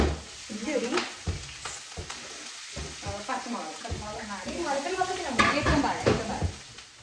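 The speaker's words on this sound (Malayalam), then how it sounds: "നമ്മൾ ഉള്ളി ആ ഓയിലിൽ തന്നെയാണ് ഫ്രൈ ചെയ്തത്" Sliced onions frying in oil in a pan, a steady close sizzle broken by repeated stirring scrapes and light clinks of a utensil against the pan, with no talk.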